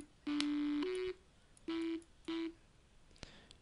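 A detuned synth tone from FL Studio's 3x OSC plugin with oscillators two and three muted, sounding as three short sustained buzzy notes, the first longer with a pitch step up, clear and alone with silence between.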